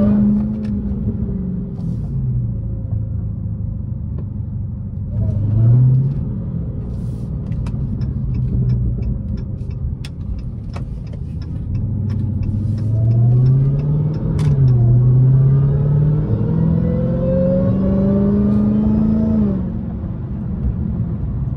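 Dodge Hellcat and 600 hp Scat Pack cars driving through after-work traffic, a steady close engine rumble with repeated revving swells and gear changes, the loudest rises near the middle and end of the stretch, no talking.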